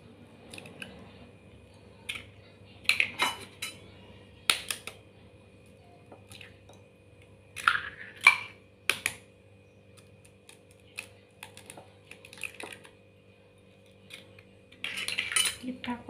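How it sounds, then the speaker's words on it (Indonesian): Three eggs being beaten in a bowl in a home kitchen: irregular clinking and tapping strokes of utensil against the bowl, close and fairly quiet, in scattered bursts with pauses. "Kita kocok lepas."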